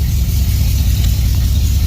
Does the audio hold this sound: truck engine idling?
yes